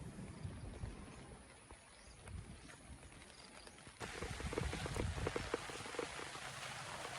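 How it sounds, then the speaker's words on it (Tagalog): Heavy rain pours down steadily on a farm where cattle, water buffalo, goats and pigs are kept, a dense hiss of drops that suddenly grows louder and closer partway through. "Sobrang lakas na ulit ng ulan."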